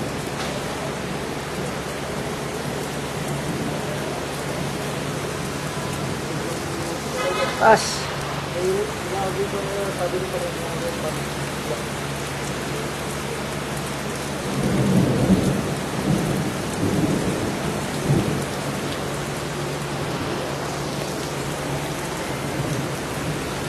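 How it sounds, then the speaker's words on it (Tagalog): Heavy rain in Quezon City hisses steadily throughout, broken by a sharp crack of nearby thunder and, later, a rolling rumble. "Kanina po ang ulan ay nasa Quezon City, napakalakas."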